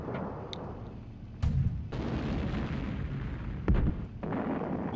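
Artillery in Sudden Strike, a steady rumble of battle broken by two sharp heavy booms, loud and close.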